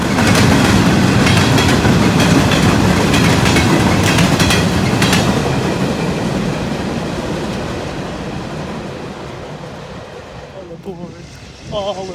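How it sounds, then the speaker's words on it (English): A long SD70M-2 freight train rolls past up close at a trackside railfanning spot, its steady wheel clatter and rumble gradually easing as the last cars pass, leaving quieter ambience at the end. "the end of the SD70M-2 train rolled past"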